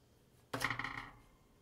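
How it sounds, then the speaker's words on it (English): A grandfather clock sounds once, with a sudden bright metallic strike that rings and fades over about a second against quiet surroundings. "There goes my grandmother clock."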